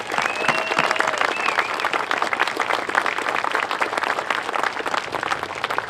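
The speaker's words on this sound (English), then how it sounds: "Let's give them a nice round of applause" A Veterans Day ceremony crowd in Hemet gives a sustained round of applause for veterans, dense, even clapping filling the whole stretch with no speech over it.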